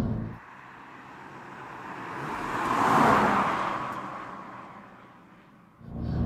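A 2023 Toyota GR86 with a 230-horsepower engine swells to a broad roar of engine and exhaust and then fades away, heard alone with no talk.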